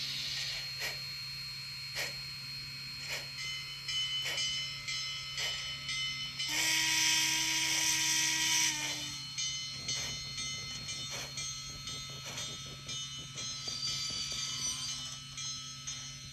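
A Rivarossi HO-scale Allegheny 2-6-6-6 H-8 model steam locomotive with DCC sound runs steadily, giving regular rhythmic chuffs with a ringing mechanical hum and a brief louder hissing burst partway through, heard close and alone.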